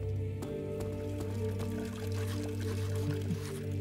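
Water pours from a bucket in the horror video game Amnesia, a faint trickling pour under a steady droning game ambience with occasional soft clicks.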